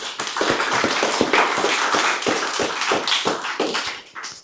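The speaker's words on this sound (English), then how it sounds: "Round of applause for all of our speakers tonight" Audience applause for the speakers at the close of an evening talk event, dense sustained clapping from many hands filling the room for several seconds before thinning out at the end.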